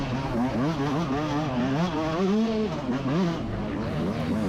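A dirt bike engine drones steadily with wavering revs rising and falling during an off-road race, loud and continuous throughout.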